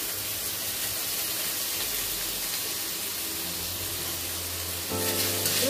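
Green beans and vegetables frying in a pan for a noodle recipe, giving a steady close hiss and crackle throughout that grows a little louder near the end.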